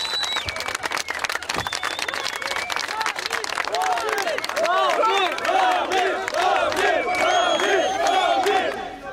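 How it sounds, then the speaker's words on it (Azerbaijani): A large crowd gathered in front of the Alley of Honour in Baku, shouting and chanting with bursts of clapping, loud and dense, rising into sustained massed voices in the second half. "Ramil Səfərovu Fəxri Xiyabanın qarşısında da böyük izdiham gözləyirdi"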